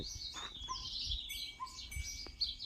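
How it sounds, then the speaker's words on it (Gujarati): Several small birds chirp and twitter rapidly nearby, a busy overlapping chatter of sparrow calls with faint background rumble. "ચકલા બોલતા હે બહુ"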